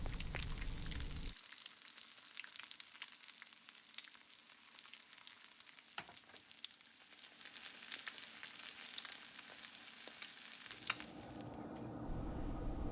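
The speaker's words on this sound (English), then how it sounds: "I'm going to fry up a couple of eggs in the bacon grease as well" Eggs frying in bacon grease, a soft continuous sizzle and crackle, faint and close, shifting in texture partway through with a few brief clicks, no talking.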